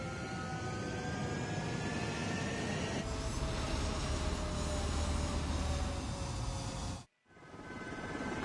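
Jet fighter engine roaring steadily in Ace Combat 7, loud and continuous with rising whine tones as it powers up for takeoff, cutting out briefly before resuming.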